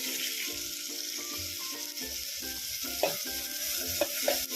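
Chilli and turmeric sizzle in hot oil with a steady crackling fry, broken by a few sharp pops and spatters, close and moderately loud with no talking.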